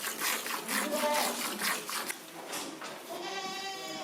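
Goats bleat on a high-altitude mountain goat farm run by three generations of one family, in an alpine setting in Italy. Repeated wavering bleats overlap in a lively, close-up chorus that continues throughout.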